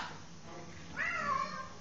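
A single faint house cat meow rises over quiet room noise, a short wavering cry in the second half.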